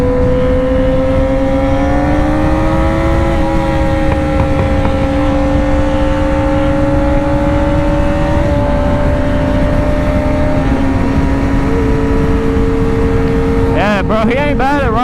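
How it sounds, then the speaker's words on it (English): Several motorcycles downtown rev together, their engine notes rising and holding in a loud, harmonized drone for about fifteen seconds, with a sharp burst of revving near the end. "Bikes harmonized, that sounds so cool."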